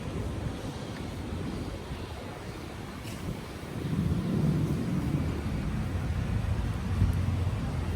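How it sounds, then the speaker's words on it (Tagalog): Strong wind roars and buffets the microphone in a continuous low rumble, growing louder and gustier about halfway through. "Kita nyo, ganyan kalakas yung hangin."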